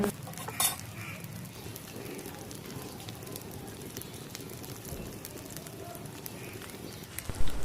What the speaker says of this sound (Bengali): তেলটা প্রথমে ভালো করে গরম করে নিয়ে এক একটা পুর ভরা পটল নিয়ে যেদিকে আমরা পুর দিয়েছি ওই দিকটাই কিন্তু তেলের দিকে প্রথমে দিতে হবে